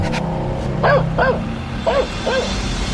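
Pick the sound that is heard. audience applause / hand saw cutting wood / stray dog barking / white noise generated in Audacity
stray dog barking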